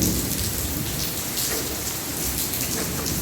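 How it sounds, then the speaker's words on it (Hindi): Heavy rain pours down near a shed, a dense, loud, steady roar of drops drumming on surfaces, with low rumbling thunder mixed into the downpour. "काफ़ी आगे तक है बारिश"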